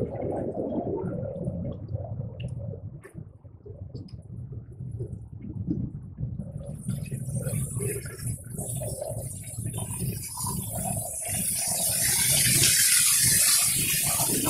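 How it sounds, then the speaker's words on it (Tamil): Water rushes continuously at Periyamalai waterfall, a steady hiss and gush that swells louder toward the end, with no talking. "தண்ணி சத்தம் மட்டும்தான் கேக்குது, வேற எதுவுமே கேட்கல."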